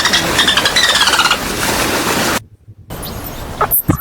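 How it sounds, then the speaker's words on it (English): A cartoon-style dolphin squeal, a loud run of rapid high-pitched chirping whistles, then a brief silence and a few softer squeaky bursts. "Dolphin."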